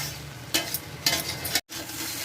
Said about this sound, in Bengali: চাউমিনটা এবার ভালো করে ভাজা ভাজা করে নেব